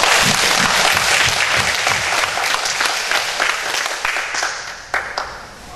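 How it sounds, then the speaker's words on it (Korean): Dense, steady applause from a congregation at a Korean Sunday church service, loud and sustained before thinning out and fading near the end. "하나님께 영광의 박수 한번."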